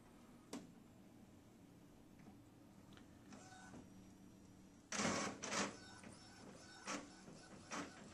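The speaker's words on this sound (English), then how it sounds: "So we're printing out the guy's score sheet right now." A printer printing a golf score sheet, with soft mechanical whirring, clicks and paper-feed clunks, then louder bursts of motor and rolling noise in the second half, all fairly faint and close.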